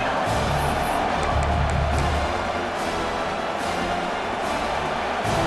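A dense, steady roar of a large stadium crowd cheering in a college football video game, loud and continuous, with no pauses.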